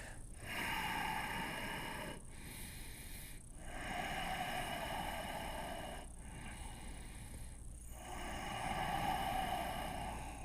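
Slow, deep breathing during a yoga hamstring and hip stretch, with four or five long airy inhales and exhales in a steady rhythm, heard close over a quiet hum.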